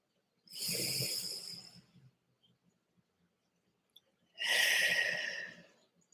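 A slow, deep breath drawn in and then let out, two long airy swells a few seconds apart with quiet in between, close and alone during a children's church message.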